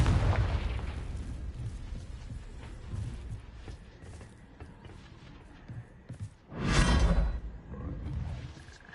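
A Confringo fire spell explodes in Hogwarts Legacy: a rumbling blast opens the scene, low roars and crackles carry through the middle, and a second loud burst hits near the end.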